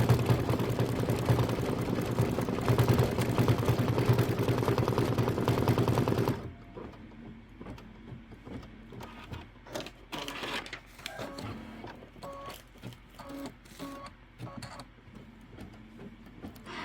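An embroidery machine stitches a decorative outline on a quilt, a loud steady whirring hum for about six seconds before it stops, followed by quieter clicks and intermittent mechanical taps.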